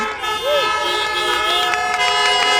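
Several car horns toot in a loose chorus at a stand-up comedy show, short blasts overlapping with a busy crowd-like background, loud and near.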